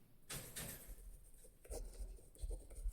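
Pen scratching across paper while a maths solution is written out, a close, soft, continuous scribbling with short stroke bursts and no talk.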